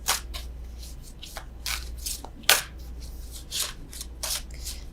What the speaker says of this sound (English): I don't know why I'm still shuffling these.